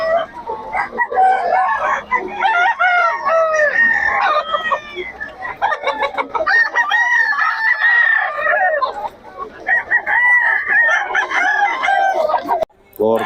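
A stag rooster crows repeatedly at the Bocaue market, loud and close, other fowl clucking around it while voices talk in the background.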